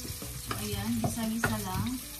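Garlic and onion frying and being stirred in a pan for spaghetti bolognese, a steady close sizzle with scraping stir strokes, while a person speaks briefly over it.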